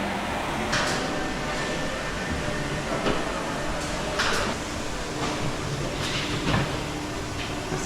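Boat galley drawers sliding open and shut in a luxury boat, several quick clacks and knocks scattered over a noisy background with people talking nearby.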